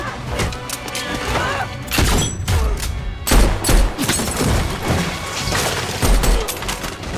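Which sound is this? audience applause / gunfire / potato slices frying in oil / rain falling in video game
gunfire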